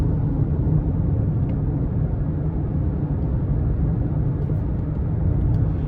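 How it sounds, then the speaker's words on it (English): Steady low tire roar from upgraded off-road tires inside the cabin of a 2024 Ford Bronco Sport Badlands with a 2.0 turbo four, a constant muffled rumble with no voices over it. "The sounds that you get in the cabin, you're hearing the tires a little bit because you do have these upgraded, I believe, off-road tires."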